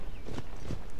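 A horse's hooves clip-clop in a horse-riding video game set on a riding stable, a few soft, evenly spaced steps over a steady background.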